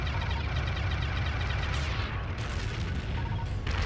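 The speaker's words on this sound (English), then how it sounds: "I've got some explosions too" Explosions go off in the space combat video game Colony Wars Red Sun, a dense continuous barrage of booming blasts and crackling bursts over a heavy low rumble.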